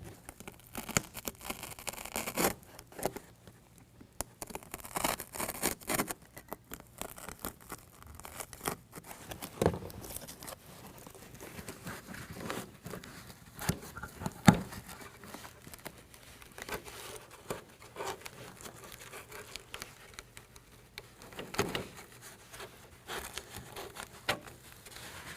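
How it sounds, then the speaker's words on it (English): Utility knife slicing a relief cut through a carpet-like bed rug liner in a 2020 Ram 2500 truck bed, producing irregular close tearing and crinkling scrapes scattered through the stretch, with no talking. "I'm going to make a relief cut right back here so that this bracket can pass through the bed rug on this side"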